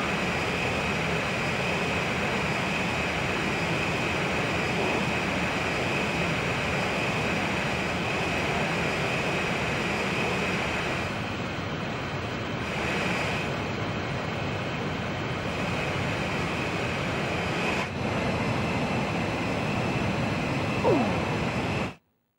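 Steady, loud jet engine roar from fighter aircraft during aerial refueling in the Ace Combat 5 video game, a continuous drone holding for about twenty seconds before cutting off abruptly.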